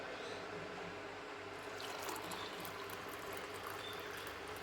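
Hot water pours into a glass holding weight-loss powder, a soft, steady trickling wash that stays faint and even throughout, with no talking.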